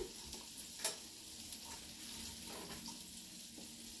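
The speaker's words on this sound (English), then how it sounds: "So there's the mushrooms in the frying pan" Steady sizzling of mushrooms frying in a pan, with a soft crackle throughout and an occasional louder clink near the start.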